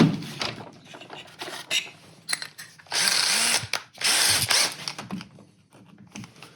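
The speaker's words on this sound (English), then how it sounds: "let me grab one of these bigger bits, use it as a chamfer tool" A hand-held power drill with a large bit chamfers a hole in work on a TW200 motorcycle, giving short whirring bursts and two longer loud grinding runs, close and alone, with small clicks and knocks between.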